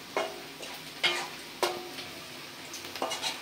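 Panch phoron whole spices crackle and sizzle in hot oil during a breakfast recipe, with a few sharp pops and stirring scrapes spaced over a steady low fry, close and moderately loud, no voices.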